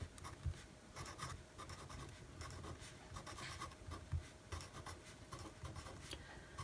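Close-up scratchy strokes of a Pigma Micron fineliner pen moving across paper, quiet and intermittent, with small taps and pauses between lines.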